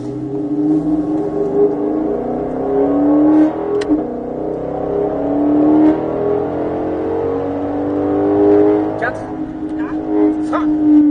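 A Mustang Shelby GT500 V8 with 760 horsepower pulls hard on the Nogaro circuit, its engine droning steadily with rising pitch under continuous in-car talk.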